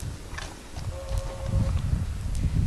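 A horse's hooves step backward out of a trailer in a slow, uneven series of clip-clops on the trailer floor, close by, with a faint tonal hum in the background.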